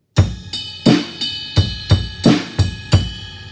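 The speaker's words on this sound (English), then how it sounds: "So this is kind of what the bass drum is playing during that part." Bass drum part from the chorus of a song, eight punchy, close kicks in an uneven, syncopated rhythm, each with a bright attack and a short ringing decay, played alone.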